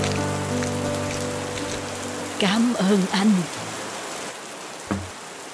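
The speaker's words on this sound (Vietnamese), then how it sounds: "Giờ cũng khuya rồi, trời lại mưa rét." Steady rain falls on a late, cold night in an animated Vietnamese folk tale, a constant hiss running throughout while someone briefly speaks over it.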